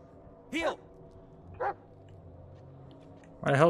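A dog barks in the Blair Witch video game, three short separate barks spread over a few seconds, moderately loud against quiet ambience, with a low hum in between.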